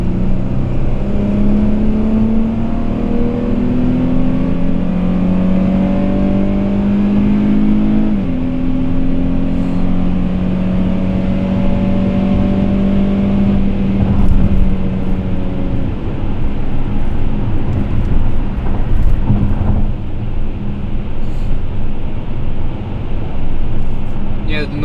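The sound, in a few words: Dodge Challenger GT V6 engine accelerating on road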